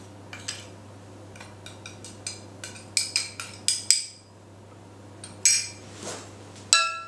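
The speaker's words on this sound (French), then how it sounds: "Je mélange un petit peu les farines." Wholemeal rice flour, gluten-free baking powder and bicarbonate being mixed in a bowl with a spoon: a run of light clinks and taps against the bowl, irregular and close, with a few louder knocks, no talking.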